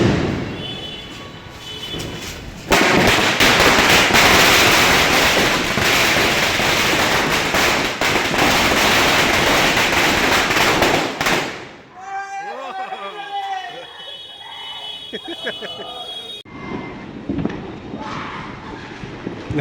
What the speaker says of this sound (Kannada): ಬೆಂಗಳೂರಿನಲ್ಲಿ ಅಲ್ಲಲ್ಲಿ ಪಟಾಕಿಗಳ ಶಬ್ದ ಬರ್ತಿದೆ